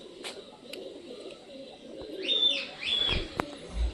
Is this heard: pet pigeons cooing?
yes